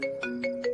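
A phone ringtone plays a quick, bright electronic pattern of repeated tonal pulses, close and clear, with no talking over it.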